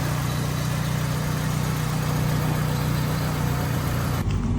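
A Honda Civic engine idles steadily and close by, a continuous low hum with a faint metallic rattle running through it, cutting off sharply near the end.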